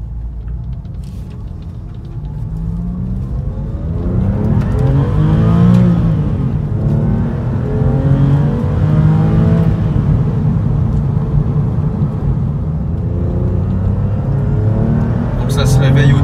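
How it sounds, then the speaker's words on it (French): A warmed-up Porsche 996 engine rises in pitch during its first hard acceleration, a loud close rumbling drone climbing steadily and holding high, while someone talks over it throughout. "le véhicule est en température, donc on va pouvoir faire une première accélération"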